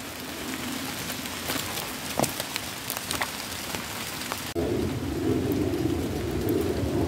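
Heavy rain pours outdoors at a bushcraft campsite, a dense steady hiss with scattered patters and drips that swells louder about halfway through, with no one speaking.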